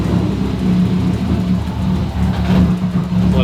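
Subaru WRX STI engine idling steadily after a fuel-pressure purge, a close, loud, continuous rumble with a fairly even tone and no talking over it.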